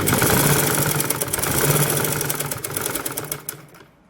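A sewing machine stitches palazzo pants fabric, a close rapid mechanical whirring with fast needle ticks that runs steadily and then stops near the end.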